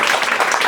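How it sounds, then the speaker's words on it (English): Audience applause honoring a teacher at a gathering, a dense, steady patter of many hands clapping at close range, filling the whole brief moment. "Let's clap it up for the best teacher ever."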